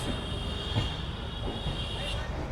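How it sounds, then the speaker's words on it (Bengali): Garib Rath Express pulling out of a Kolkata station: a continuous low rumble of train wagons rolling on the rails, steady and fairly close, with a faint high whine above it. "স্টেশন ছেড়ে বেরিয়ে গেলো আমাদের গরিব রথ"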